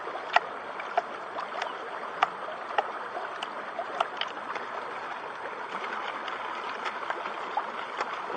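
Water sloshes and splashes in a gold pan being rocked back and forth during panning, a steady watery wash broken by a series of short splashy clicks, moderately close and with no talking.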